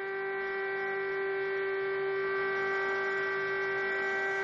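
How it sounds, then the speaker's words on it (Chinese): A civil defense air raid siren sounds at 10 a.m. during China's national mourning for those who died in the COVID-19 epidemic, holding one steady, loud, unbroken tone with no voices. "上午10时整，防空警报鸣响。"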